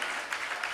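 Congregation clapping hands in thanks during a church service, a dense, steady wash of applause lasting under a second with no voices.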